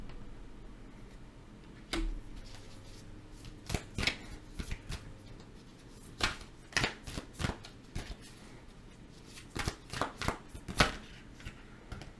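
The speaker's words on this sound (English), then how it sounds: "I'm going to pull the last 3 cards and conclude this reading" Tarot cards handled and shuffled close by, producing a series of sharp, irregular snaps and flicks spread across the passage with quieter rustling between.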